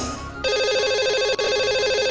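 Telephone ringtone of a call placed to a radio show's lucky caller, a steady loud electronic ring tone repeating without a break, with no talking over it.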